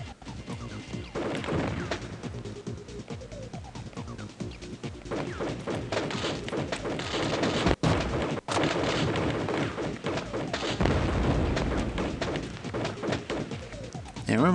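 Gunfire and explosions from the video game Crusader: No Remorse: a dense, continuous barrage of blasts, thuds and crashes, loud throughout, with a voice talking over it.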